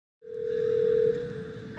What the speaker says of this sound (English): I've asked an AI to make a phone call for me.